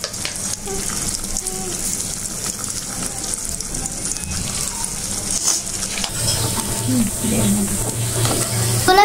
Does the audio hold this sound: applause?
no